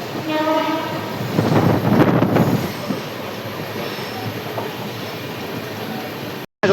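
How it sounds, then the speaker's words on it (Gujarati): Jabalpur Express drawn by a WAP-7 electric locomotive arrives at a station, sounding its horn loudly at the start before rumbling and squealing wheels roll past up close. "જબલપુર વાળી ગાડી આવી ગયેલ છે"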